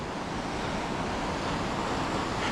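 River rapids rushing past a boulder field at Cucumber Rapids, Ohiopyle, in winter, a steady broadband roar of flowing water close by with no voices.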